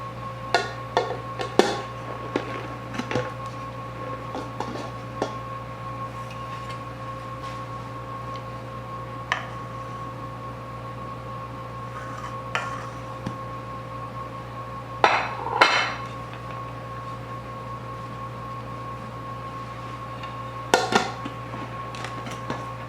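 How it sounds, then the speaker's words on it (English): Cooled box cakes being worked out of a metal baking pan at home: scattered light metallic taps and clinks, a few sharper knocks near the middle and end, over a steady background hum. "I'll remove them from the pan."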